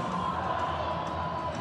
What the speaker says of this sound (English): and the crowd, you can hear it